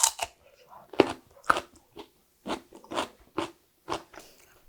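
Crisp cubes of autumn radish kimchi (seokbakji) are bitten and chewed up close, about nine distinct crunchy bites and chews spaced with short quiet gaps.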